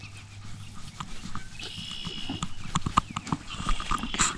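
A donkey being scratched grunts and snorts in short bursts that grow louder and busier, close by, with scuffing and clicking sounds mixed in.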